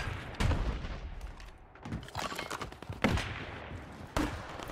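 Gunfire in a Warzone match, several sharp loud shots spaced about a second apart over rumbling game ambience, nearby and distinct.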